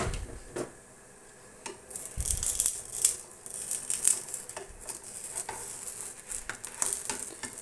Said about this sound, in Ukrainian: От зараз другий блін дивимося, як воно буде, як воно жариться.